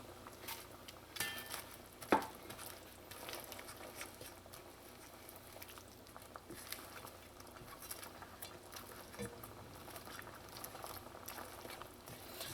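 Trinidad curry fish simmering in a thickening curry sauce: a faint, steady bubbling and soft popping close by, with a brief clink of a pot or utensil early on.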